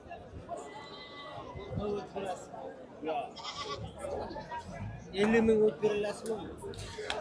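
Goats bleat at the Chim livestock market, one loud, close bleat standing out near the end amid scattered fainter calls, with people talking and chattering throughout.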